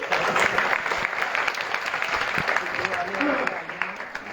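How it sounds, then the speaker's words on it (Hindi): Clapping from an audience at a school girls' quiz competition, moderately loud and somewhat uneven, with voices audible under the applause. "इसलिए इनके लिए जोरदार ताली"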